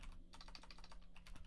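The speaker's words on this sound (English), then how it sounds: "I apologize, I'm typing poorly today." Rapid typing on a computer keyboard, a quick uneven run of soft key clicks, close and fairly faint, with no talk.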